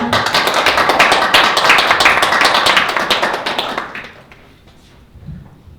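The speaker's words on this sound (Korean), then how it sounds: "네, 그럼 박수로 모시겠습니다." A lecture audience at a talk on disability employment claps loudly and densely to welcome a speaker. The applause holds for about four seconds, then fades quickly into near quiet.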